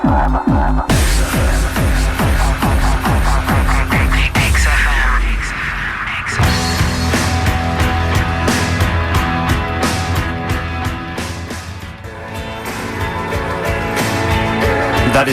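A track plays loud and full, with steady drums, bass and layered instruments; the arrangement thins briefly near the middle before the dense band sound returns.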